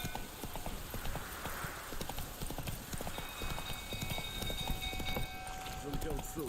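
Horse hooves clip-clop steadily in The Witcher 3 video game, a quick rhythmic trot under ambient game sound, with voices talking over it.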